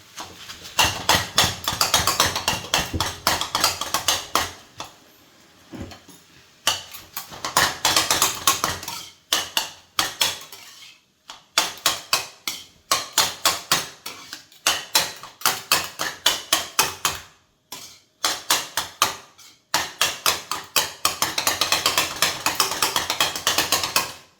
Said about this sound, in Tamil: அஞ்சு பரோட்டா சின்ன சின்னதாக வெட்டி வச்சுருக்கேன் அது இதுக்குள்ளே சேர்த்துக்கலாம் எடுத்துட்டு நல்லா கொத்திக்கலாம்